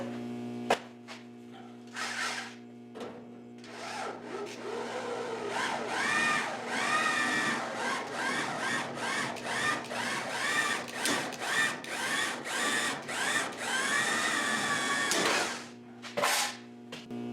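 A power tool trims a car's left rear quarter panel sheet metal during a vintage modified restoration, cutting in a loud, continuous rough whine with fluctuating pitch from start to near the end, broken by brief pauses.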